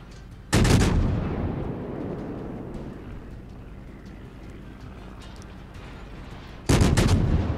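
HE shells fired from the cruiser Nürnberg in the naval game World of Warships: two loud booming salvos several seconds apart, each a sharp blast decaying into a long rumbling tail under steady ambient noise.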